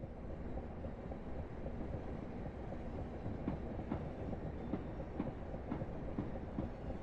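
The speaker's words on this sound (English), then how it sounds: "Got a few trains in and out of here now." In Train Simulator Classic, a continuous low rumble of electric trains rolling past a station with faint rhythmic clickety-clack of wheels over rail joints, steady and moderately distant.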